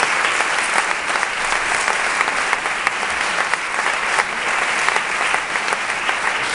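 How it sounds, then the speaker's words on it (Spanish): Concert audience applause, loud dense clapping holding steady throughout with no one speaking over it. "Y pido un aplauso para Gustavo López, que está en la"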